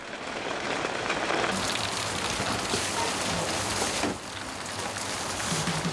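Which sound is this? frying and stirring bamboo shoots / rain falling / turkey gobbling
rain falling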